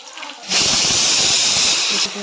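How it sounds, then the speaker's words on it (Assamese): Singhi fish frying in a hot pan, a loud steady sizzle and hiss that kicks in abruptly and holds for about a second and a half before cutting back, close up in a home kitchen. "এয়া মই ভাজি আছোঁ শিঙি মাছ"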